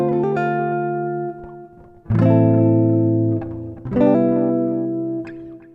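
Major 7th chords are strummed on a guitar in three ringing strums, each sustaining and slowly fading before the next, with rich harmonic overtones and no voice over them.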